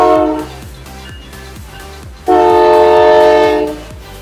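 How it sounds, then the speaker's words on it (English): A short train rolls through a residential neighborhood, a steady rhythmic rumble with repeating clicks, then a loud sustained horn blast that sounds for over a second before easing off. "we have a short train passing through our neighborhood here"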